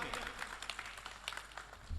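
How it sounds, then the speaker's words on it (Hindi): Faint applause from a poetry gathering's audience as a poet is called to the stage, a short patter of scattered claps in a quiet room, ending with a low thump. "भरपूर तालियों में।"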